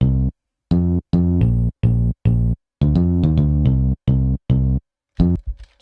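A synth bass built from two combined BeepBox instruments plays a punchy, staccato line of short loud low notes in rhythmic bursts with brief gaps, ending in a few fainter trailing tones.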